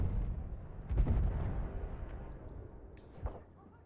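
Gunfire in the Battlefield video game: a few booming, blast-like shots, the loudest near the start, followed by a softer thump near the end over a continuous rumbling battlefield background.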